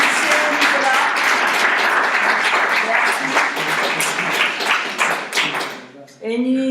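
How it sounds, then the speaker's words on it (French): Audience applauding Nicolas at a conference, a full round of dense clapping with sharp individual claps standing out, tapering off before a voice begins speaking at the very end. "Let's give another round of applause for Nicolas."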